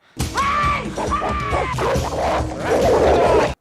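A dog barks and yelps loudly and close by, with harsh crashing thuds mixed in, in a quick frantic burst.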